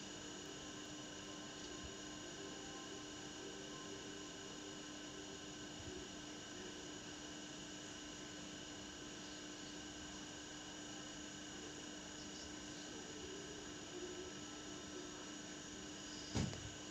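An electric hand mixer beats date cake batter in a home kitchen, a steady continuous whir running unbroken and fairly loud throughout with no talking.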